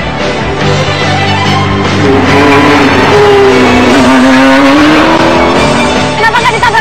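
A car driven by Monty in a game, loud engine whine rising and falling with revving and tire squeal, close and continuous.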